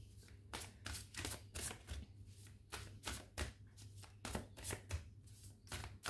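Oracle cards are shuffled by hand in a quick run of crisp, rhythmic riffles and slaps, close and fairly soft.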